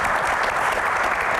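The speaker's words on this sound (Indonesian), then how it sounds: "tepuk tangan semangat dulu buat Ibu Iren ya" An audience at a talk event with Indonesia's Deputy Minister of Creative Economy gives dense, steady applause. It is loud and continuous through the whole short moment.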